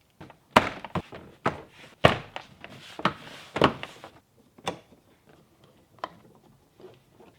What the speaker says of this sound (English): Now we can throw the door panel back on